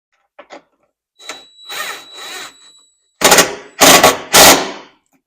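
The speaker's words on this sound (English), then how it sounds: "And then I'll go ahead and tighten that down." Power driver tightening a bolt on a Polaris RZR Pro-R enclosure, several short whirring bursts, the last three loud and close, with brief pauses between them.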